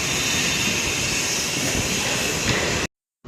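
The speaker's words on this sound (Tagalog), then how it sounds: "Kailangan natin ng compressor para sa paglilinis." Air compressor hose blowing dirt off a slab before pouring concrete, a loud continuous hissing blast of air held steady for nearly three seconds before cutting off abruptly.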